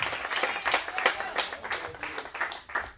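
A congregation at a Sunday church service claps in loud praise, a crowd of hands with uneven rhythmic bursts filling the room, without talk.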